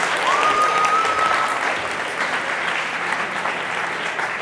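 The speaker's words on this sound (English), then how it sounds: "Big round of applause for Joy, ladies and gentlemen." An audience gives Joy a round of applause, a dense, steady clapping that stays loud and even throughout with no voices over it.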